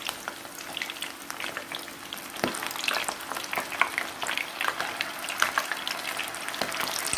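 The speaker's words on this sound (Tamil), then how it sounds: "எல்லாத்தையும் போட்டு பொறிச்சு எடுத்துடலாம்." Prawns deep frying in hot oil for prawn 65 give off a continuous dense sizzle and bubbling crackle, close and fairly loud, with occasional stirring sounds and no voices.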